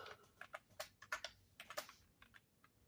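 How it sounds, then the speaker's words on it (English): Quiet typing on a computer keyboard, an irregular run of soft key clicks over about three seconds, close by and faint, with no voices. "I can't type around my tripod."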